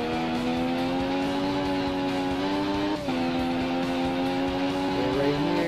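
Motorcycle engine in the PS4 racing game RIDE, a steady high revving whine holding pitch with a brief dip near the middle, then climbing again, loud and close with no talk.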